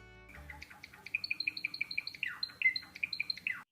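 Java sparrows in a colony cage let out a quick run of bright, repeated chirps and short tweets, close and fairly loud, following a brief low start, with no voices.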